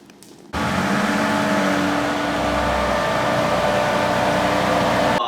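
A car in a Park Plus parking system at Broadway385 starts up abruptly after a quiet moment, then its engine hums steadily and close while it edges into a parking space.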